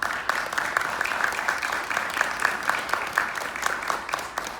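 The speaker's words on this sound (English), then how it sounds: "Let's give them a round of applause" An audience claps at a TriM music honor society student induction ceremony, a sustained patter of many hands at moderate distance with scattered sharper claps, no one speaking over it.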